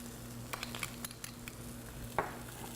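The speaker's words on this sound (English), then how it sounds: "And then we'll stir that together." A spoon stirs a braising liquid of pineapple juice, brown sugar, sesame oil and rice vinegar, making faint, scattered clinks and scrapes against a quiet low hum.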